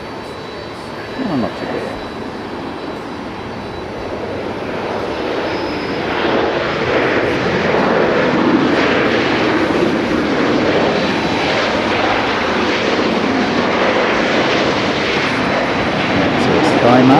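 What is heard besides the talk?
airplane landing at Haneda airport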